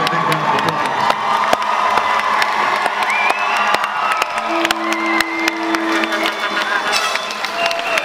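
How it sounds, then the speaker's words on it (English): A crowd of students at a high school event cheers, whoops and claps loudly and close by, with children shouting and lively chatter running throughout. "let's give them a big round of applause."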